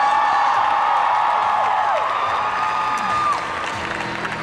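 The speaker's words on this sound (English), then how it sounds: "Let's give our Outer Guardians a huge round of applause" A large audience claps and cheers at an Anime Expo Sailor Moon convention panel, with loud sustained applause, whoops and high excited shouts filling the hall and fading slightly toward the end.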